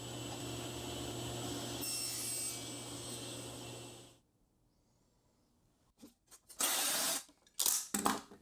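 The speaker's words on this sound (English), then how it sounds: "cut the bottom piece to size out of a scrap of 1/8 inch plywood" Scrap 1/8 inch plywood for a keepsake box bottom is cut with a steady rasping saw-like noise, followed after a pause by short bursts of scraping and handling.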